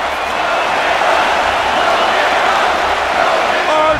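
Capacity arena crowd at a UFC event, a dense continuous roar of cheering and murmur filling the space, steady and loud with no breaks.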